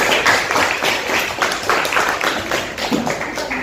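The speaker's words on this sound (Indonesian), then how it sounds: "Kita berikan tepuk tangan." A classroom of students applauds after a group presentation, a dense patter of many hands clapping at once, steady and fairly close for several seconds with no voices over it.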